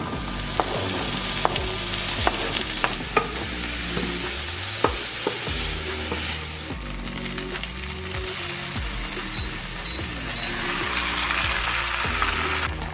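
Bell peppers frying in a hot pan, a steady close sizzle of crackling oil throughout, broken by occasional sharp ticks and pops and light stirring, with no voices.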